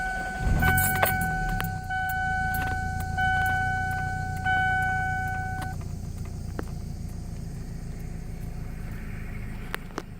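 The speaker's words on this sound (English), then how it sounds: "So what we'll do now is we'll start the car, so we can verify there are no check engine lights." A 1998 Toyota Celica GT starting: key-on warning chimes and tones, then the engine cranks and settles into a steady, low idle heard up close.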